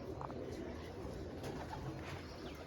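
Soft, low cooing of pigeons murmurs continuously at a distance, blended with faint chirps and rustling background noise.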